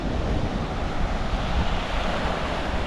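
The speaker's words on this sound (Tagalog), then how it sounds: "Tapos nadadala yung alon, kaya malalaki yung alon." Strong wind and big sea waves pound a coastal fishing spot during the northeast monsoon, making a constant, loud, broadband roar with buffeting gusts on the microphone and no pauses.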